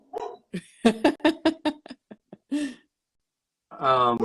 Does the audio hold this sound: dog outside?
yes